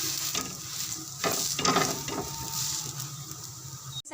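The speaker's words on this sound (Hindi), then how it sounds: "उसको लाइट फ्राई कर लेते हैं" A burger bun brushed with egg frying lightly in a pan, giving a continuous close sizzle with soft scraping strokes in the middle and a brief clatter at the end.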